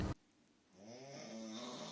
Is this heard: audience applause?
no